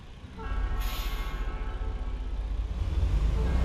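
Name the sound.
train passing by, from the video game American Truck Simulator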